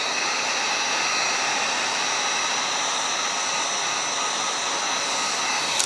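A heat gun blows hot air onto vinyl wrap on a Tesla during a DIY camo wrap job, producing a steady, close, loud whooshing hiss that holds constant for about six seconds without speech.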